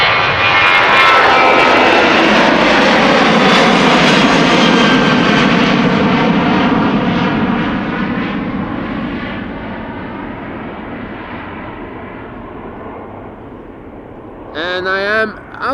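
A Ryanair jet departing Amsterdam Schiphol Airport for Dublin, its engines giving a loud, broad roar that swells and then slowly fades as the aircraft climbs away, with a brief noise near the end.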